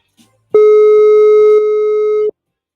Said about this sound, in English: Apologies for that little ringing there